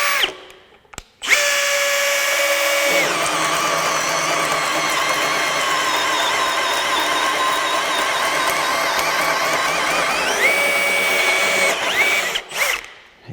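A Milwaukee M18 compact brushless cordless drill whines at high speed for about ten seconds, its pitch steady as the large bit bores, then winds down with a brief clatter.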